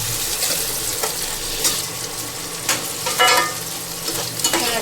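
Diced potatoes fry in a pan for an aloo shimla mirch (potato and capsicum) curry, with a constant oil sizzle broken by several scraping stirs of a spoon, close and clear, no voices.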